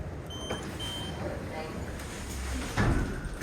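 Lift doors slide shut at the British Motor Museum in Gaydon, a soft mechanical rumble ending in a firmer thud, with voices and indoor background noise around it.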